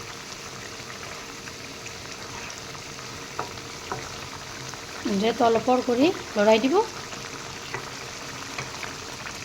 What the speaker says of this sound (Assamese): মাছখিনি এয়া ধুনীয়াকৈ উতলিব ধৰিছে